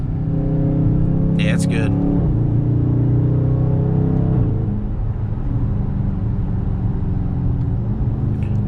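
A 2021 Dodge Charger Scat Pack Widebody shifted into manual accelerates with a deep, steady engine drone heard from inside the cabin, rising in pitch and then settling, while a person speaks briefly over it.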